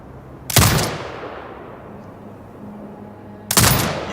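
Two heavy booming turret shots sound in the video game Sniper Ghost Warrior Contracts 2 across a desert setting. They come about three seconds apart, each loud and close with a long fading rumble.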